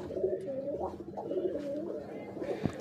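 Domestic pigeons coo softly nearby, a few low rolling calls repeating over faint background noise, with a brief knock near the end.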